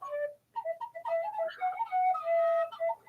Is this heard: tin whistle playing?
yes